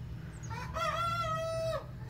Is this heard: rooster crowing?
yes